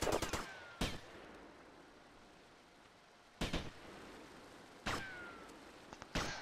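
Sharp, isolated gunshots ring out in a video game, four separated bursts spread over several seconds against a quiet, hissy background, some cracking in quick doubles.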